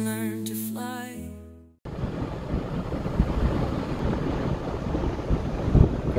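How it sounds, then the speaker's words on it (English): Wind buffets a microphone aboard a boat at sea. A loud, gusty roar with rumbling low bursts follows a brief stretch of music at the start. "one thing that I can say that we're catching a lot of is wind"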